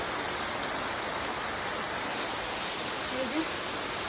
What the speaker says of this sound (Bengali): বৃষ্টি দেখো জাস্ট বেরিয়েছি বৃষ্টি শুরু